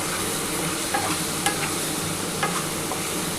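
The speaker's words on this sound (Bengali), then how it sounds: "এবার খুব ভালো করে মশলাটা কষাতে হবে।" Spice paste with a pinch of sugar sautéing and being stirred in hot oil for a prawn, potato and cauliflower curry, giving a continuous close sizzle with light scraping clicks.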